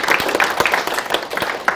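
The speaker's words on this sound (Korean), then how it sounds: "크게 이제 박수 한번 치면서 좀 진행을 좀 하겠습니다" A class claps together on the teacher's cue at the start of a maritime-English exam prep lecture for coast guard recruits, a quick burst of scattered hand claps over a steady room murmur.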